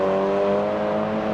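A Mazda MX-5 race car in a championship round at Croft circuit accelerates away toward the hairpin, a loud sustained engine drone with steady tone, close and alone.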